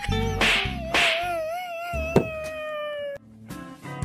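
A cat meows in a short series of drawn-out, tonal cries, several close calls in a row separated by brief pauses.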